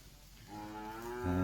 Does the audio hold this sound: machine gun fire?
no